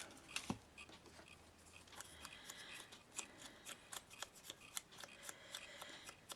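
Scissors snipping paper flower petals, a series of crisp close cuts in an irregular rhythm, quiet and alone.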